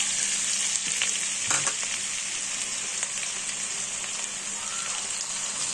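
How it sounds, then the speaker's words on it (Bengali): Chopped garlic frying in hot butter gives a steady, dense sizzle that holds evenly throughout, with a brief clatter of stirring near the middle and no talking. "মাখনটা আমাদের গরম হয়ে গেছে। এতে আমি রসুন কুচো দিচ্ছি।"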